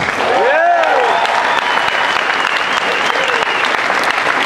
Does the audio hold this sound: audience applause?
yes